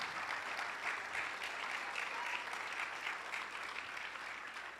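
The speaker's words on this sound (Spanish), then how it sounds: "Dele ese aplauso fuerte al Señor" Church congregation applauding the Lord during a sermon, a continuous, fairly distant roar of many hands clapping, steady and even throughout.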